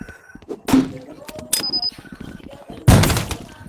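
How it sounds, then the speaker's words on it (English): Bombs going off in Rec Room: several separate thumping blasts and crashes, a loud one near the start, another mid-clip and a strongest burst near the end, with faint voices in between. "He keeps on throwing random bombs."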